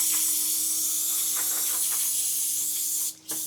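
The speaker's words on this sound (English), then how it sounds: "And we'll just give that a rinse." Water sprayed from close range to rinse front brake parts on a Land Cruiser 200 Series, a steady loud hiss that cuts out briefly near the end before resuming.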